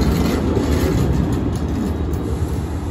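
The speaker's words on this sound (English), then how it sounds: "there goes that train going all the way to Sacramento" An Amtrak Capitol Corridor train headed to Sacramento pulling away from San Jose station, a continuous loud low rumble and rolling roar heard close by throughout, with no talk.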